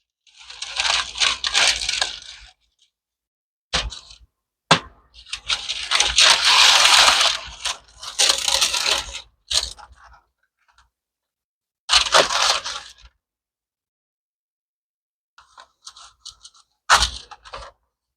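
A knife saws through a loaf of homemade cinnamon bread in bursts of crunchy, scraping cuts, several strokes separated by pauses, close and fairly loud.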